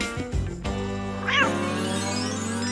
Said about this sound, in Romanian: Oh, e o pisicuță adevărată